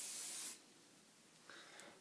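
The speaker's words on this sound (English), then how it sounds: "spray a bit of the hairspray on the front of your hair or wherever you want it" A single short blast of hairspray from an aerosol can onto hair, a close hissing burst that stops abruptly, followed by faint handling sounds.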